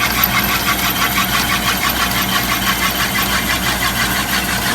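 Shopsmith woodworking machine running steadily while turning a wrapped bowl, a continuous loud motor hum with a broad whirring, scraping texture from the spinning workpiece, close and unbroken.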